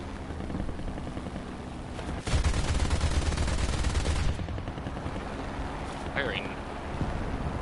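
Gunfire in War Thunder, a loud rattling burst of rapid shots over steady wind-like rumble, followed by quieter ambient noise.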